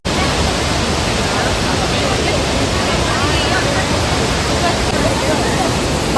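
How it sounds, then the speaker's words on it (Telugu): A monsoon-swollen waterfall in Coorg or Chikmagalur roars as a loud, unbroken wash of rushing water that stays constant throughout and buries everything else. "ఎంత బాగుందో వాటర్ ఫాల్స్ అయితే నిజంగా"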